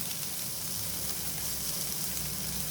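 Chopped tomatoes sizzle gently over a low flame in a pan for Maggi noodles, a soft, steady frying hiss that stays even and quiet for the whole stretch.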